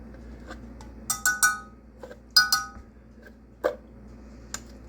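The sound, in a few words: peanut butter put into a glass dish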